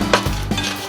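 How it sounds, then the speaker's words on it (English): A utensil stirs quiche filling of spinach and ham together in a bowl, producing a few close, loud clinks and scrapes against the bowl in quick succession, with no talk. "just going to stir this all together"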